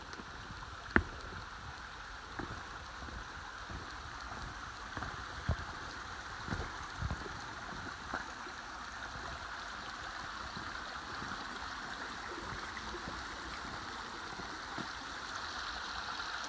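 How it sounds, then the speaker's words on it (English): A stream rushes steadily beside a hiking trail near Manchester Center on the Long Trail, a continuous broadband wash of water with a few soft clicks and footsteps scattered over it, no voices. "I'm hearing a rush of water"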